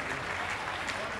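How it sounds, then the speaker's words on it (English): Applause from an auction audience thanking bidders and participants, a steady dense patter of clapping hands throughout, moderately faint and continuous. "Let's get a round of applause for all the bidders and everybody for participating."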